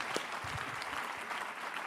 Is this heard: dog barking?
no